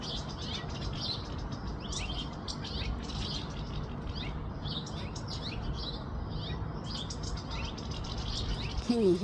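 Small birds calling in agitation at a juvenile red-tailed hawk perched nearby, continuous chirps and chips overlapping outdoors, moderately loud against steady ambient noise.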